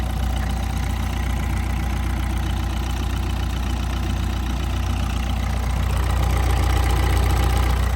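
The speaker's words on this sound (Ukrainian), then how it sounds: "Ідеальна робота цього мотора. Абсолютно ніяких лишніх шумів, звуків немає." A 2013 Opel Zafira engine idles steadily, a constant low rumble with an even mechanical ticking, close and unchanging throughout.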